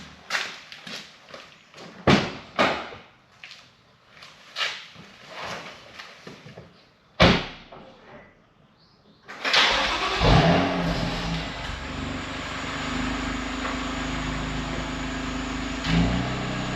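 Shuffling and clunks inside a BMW M2 Competition with a manual six-speed, a 520bhp+ remap and anti-lag, then a solid door thud, then the engine fires with a loud rising bark and settles into a close, steady, rumbling idle.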